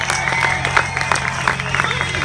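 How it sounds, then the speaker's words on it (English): Audience applause with cheering for a female performer at an outdoor Independence Day event at Lake Pleasant, a steady dense clapping wash with crowd noise and some voices throughout. "Let's give her a huge round of applause, everyone"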